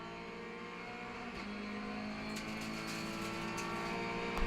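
Peugeot 206 RCC race car engine heard from onboard, a steady loud drone holding near-constant revs, with the pitch rising slightly toward the end, no talk.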